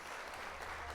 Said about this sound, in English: We'll hit applause again because that's a lot